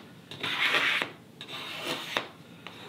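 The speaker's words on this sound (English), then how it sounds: "I take the scraper, this is the flexible one, so it bends a lot, and I pull it all the way." A flexible cabinet scraper is pulled along a wooden hand-plane front knob clamped in a vise, giving two drawn-out, rasping scrapes, close and fairly quiet, each ending in a light tick.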